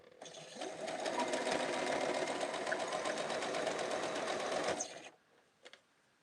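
A sewing machine runs steadily for about five seconds, stitching the seams of red, white and blue quilt blocks, then stops, followed by a couple of faint clicks in a quiet room.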